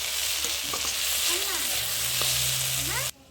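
Flat beans, onion, garlic and chilli frying in a pan, a continuous loud sizzle with a spatula stirring and scraping against the metal, ending abruptly.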